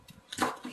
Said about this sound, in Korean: 양파를 또 썰어볼게요